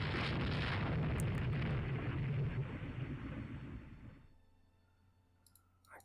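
In the naval strategy game Rule the Waves 2, torpedo hits explode against battleships as a loud, broad rumbling blast. The blast fades away over about four seconds into quiet, followed by a few faint clicks.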